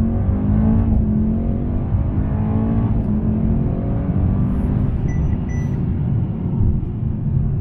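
Mercedes E 63 S AMG with 612 hp driving, a steady low engine drone and road rumble heard from inside the cabin, fairly loud and constant with slight shifts in pitch.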